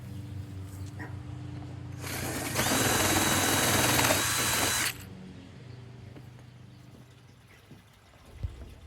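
A power drill spinning a paddle bit bores through a canoe hull, a loud whining burst of about three seconds that rises in pitch and stops abruptly, between quieter handling noises.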